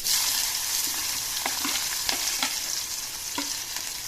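Whole cumin and five-spice seeds crackle in hot oil while a spoon stirs them, a steady close sizzle punctuated by several quick scraping strokes for egg curry with spiny gourd.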